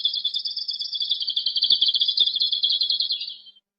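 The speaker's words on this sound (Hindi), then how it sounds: "वो चहचहाकर उन्हें बुलाने लगा।" A small bird chirps in a rapid, continuous high trill for about three and a half seconds. It is close and clear, with no other sounds, and fades out at the end.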